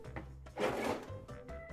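A kitchen drawer below the cabinets slides open with a single short wooden rubbing scrape, close and moderately loud, with a faint hum underneath.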